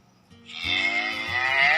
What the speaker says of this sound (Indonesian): maka akan keluar suara sapi